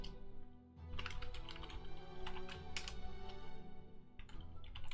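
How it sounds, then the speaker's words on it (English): Someone types on a computer keyboard while naming a unit in a strategy game, a quiet burst of irregular key clicks over a low, steady background hum. "I am bad at typing."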